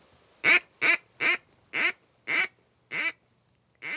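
A duck call is blown in a string of seven sharp, evenly spaced quacks, fairly loud and near, on open water during a waterfowl hunt in Michigan, with no voices alongside.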